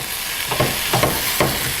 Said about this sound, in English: Oh, and you can hear it sizzle.